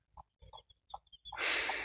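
A game hen guards her chicks with agitated, close clucks and short calls in a few bursts, then a loud puffing blast of noise at the end.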